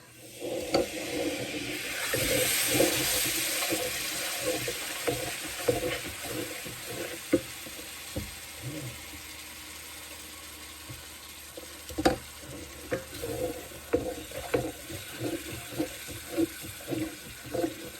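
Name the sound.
broth being poured into the pan for beef stew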